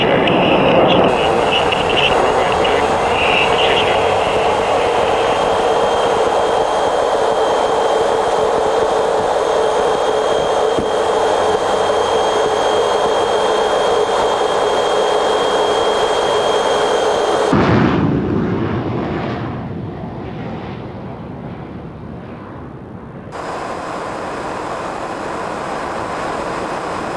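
A Blackburn Buccaneer jet aircraft roars loudly at takeoff power in a long, sustained blast, then drops sharply to a lower, distant rumble.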